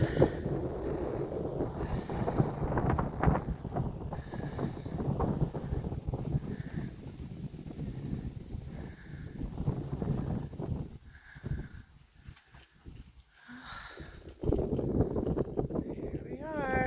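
Gusting wind buffets the microphone on an exposed Appalachian Trail ridge between Mooney Gap and Winding Stair Gap on a cold day, a continuous low roar that rises and falls, with a brief lull near the end.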